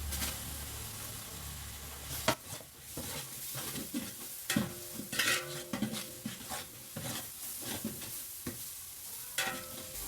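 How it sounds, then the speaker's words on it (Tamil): Ginger garlic paste, ground from 100 g ginger and 100 g garlic, fries and gets stirred into onions in a pot of chicken curry, with a soft sizzle under repeated scraping and clinking of a spoon against the pan. "இந்த டைமில் நம்ம இஞ்சி பூண்டு பேஸ்ட்டு சேர்த்துலாம்"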